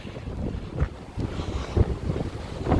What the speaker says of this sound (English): very windy I must say